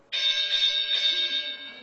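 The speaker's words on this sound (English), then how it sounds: "This is my boxing bell." A handheld boxing bell rings out at a live engineering debate, two bright metallic strikes in quick succession whose shimmering tone rings on and slowly fades, loud and close with no talk over it.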